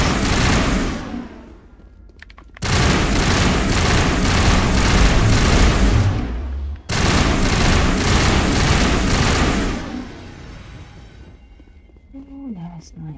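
Gunfire from sniper enemies in the video game Mass Effect Legendary Edition on Insanity difficulty, two long loud bursts of rapid booming shots with brief gaps, with a player talking between them.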